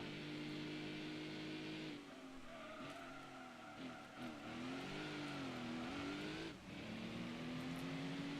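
A race car in Gran Turismo 2 power slides through a corner, its engine droning steadily with shifting pitch and tire noise, held at an even, fairly quiet level throughout.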